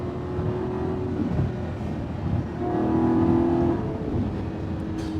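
A Lamborghini V12 drives in Italy, its engine a steady low drone that swells into a brief rising rev mid-way before settling, heard from inside the car.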